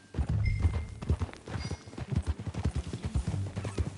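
Horse hooves clip-clopping at a steady trot in the video game Red Dead Redemption 2, a rhythmic, fairly close series of muffled thuds.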